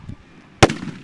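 A single loud, close mortar launch from a large firework tube bursts out sharply during a home Fourth of July fireworks show, then its rumble decays over a quiet outdoor background.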